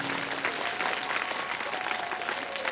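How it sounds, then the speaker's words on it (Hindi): Dense, steady clapping from a large audience at a Hindu Ram Katha recital in a village market, a continuous wash of applause lasting the whole stretch with no voices over it. "यहाँ भी सबने ताली बजाई पर कुछ लोगों ने नहीं बजाई।"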